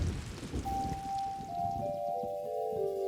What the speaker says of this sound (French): il se mettait à pleuvoir sur la campagne